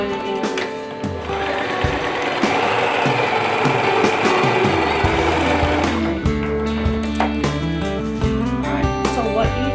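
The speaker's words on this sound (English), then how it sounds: "and then I just start sewing again." A sewing machine stitches fabric for a basket bag with a fast mechanical whir, stopping and restarting in short runs with clicks between them, close and fairly loud.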